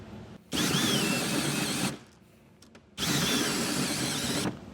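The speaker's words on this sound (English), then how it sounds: "I'll take a 4-inch hole saw and start cutting our hole right in the center of that" A 4-inch hole saw on a power drill cuts a hole through the steel bed of a 2023 Ford F-250 pickup, in two loud sustained grinding bursts separated by a short pause.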